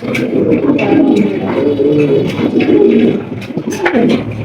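Pigeons at a pigeon seller's place coo in low, repeated throaty calls that overlap each other, loud and close, with faint human sounds in the background.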